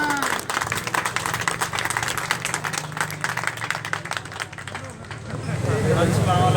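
An audience at a maize market meeting in Okara claps for Haji Bhola, a dense, steady wash of many hands with crowd murmur underneath, slightly dipping and then swelling again toward the end.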